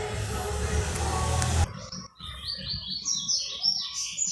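Small captive-bred songbirds, coleiro or trinca-ferro, chirping in rapid bright repeated notes nearby, following a short burst of broadband noise at the start.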